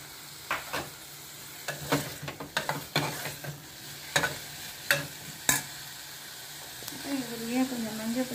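Tomatoes sautéing in a pan for mung dal tadka, a soft sizzle broken by sharp scrapes and knocks of a spoon stirring against the pan, with someone talking briefly near the end.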